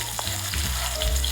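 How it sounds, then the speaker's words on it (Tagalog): Ginger sautés in a little oil in a pan for a sweet and sour tilapia dish, making a close, continuous sizzle with a few soft stirring scrapes over a short stretch and no speech. "Konting oil and igigisa lang natin ang ginger."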